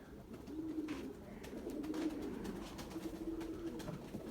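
Soft, low cooing of a Turkish game pigeon repeats in gentle rolling phrases, faint against quiet background noise.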